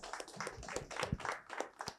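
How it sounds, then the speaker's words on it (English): Audience applause at a human rights session, a quiet patter of scattered claps with uneven rhythm, heard from a distance, with faint voices mixed in. "It deserves an applause"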